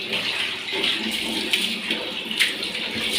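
Water splashes and pours steadily during a dog's Sunday bath, a continuous wash of spattering with small bursts of spray throughout.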